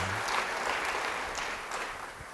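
Brief burst of congregation applause in a church service, a close, dense wash of clapping that fades slightly over a couple of seconds.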